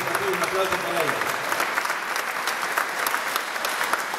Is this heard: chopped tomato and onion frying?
no